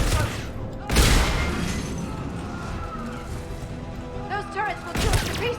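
Turret gunfire in the shooter Mass Effect 3 comes as a heavy burst near the start and another near the end, with battle noise and synthetic chirps in between, over game action with no voices.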